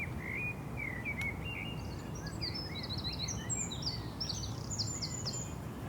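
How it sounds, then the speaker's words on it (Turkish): Small birds chirping outdoors, a series of quick high tweets and short trills scattered over a steady background hiss, moderately faint and without talk. "Kuşların da sesi geliyor."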